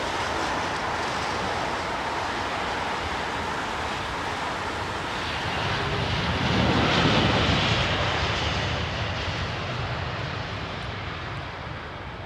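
A British Airways airliner taxis toward the gate at a wintry Heathrow, its engines a steady broadband roar that swells briefly partway through, with no voices heard.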